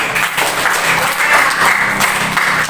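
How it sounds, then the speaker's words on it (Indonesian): Classmates in a school classroom applaud a student, a loud, continuous round of many hands clapping close by, steady from start to finish. "Kita kasih tepuk tangan dulu untuk teman kita, Ben."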